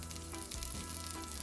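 Minced garlic and green beans sautéing in a cast iron pan, a steady close sizzle with a low constant hum beneath it, no voices.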